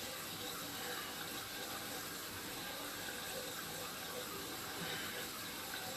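Water flowing through an underground sewer pipe on a sewer inspection in Berlin, New Hampshire, a steady, even rushing wash that holds at a constant level throughout.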